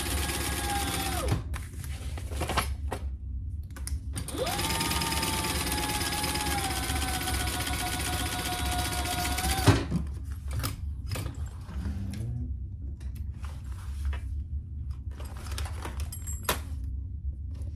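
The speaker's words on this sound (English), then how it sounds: "just sew along each side at the seam allowance in the pattern" A sewing machine runs along the side seams of a handbag, close and loud, with a steady mechanical whir over a low motor hum, broken by brief pauses and some handling.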